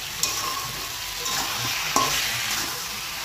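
Diced onions fry in a pan with a dense, steady sizzle close by, marked by a couple of faint clicks from stirring.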